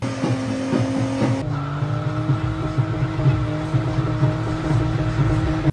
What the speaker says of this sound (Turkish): otomobilin hem kas pedalına hem de fren pedalına aynı anda basarak lastikleri yakan maganda